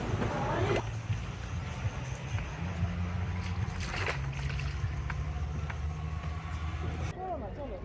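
A motorboat on the Teesta river, its engine producing a steady low drone with rushing water and wind noise throughout, fairly close and continuous.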